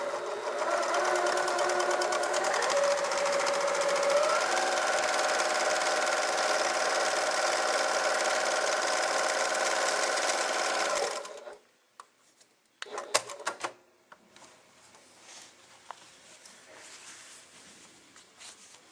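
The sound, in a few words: Elna 7100 sewing machine stitching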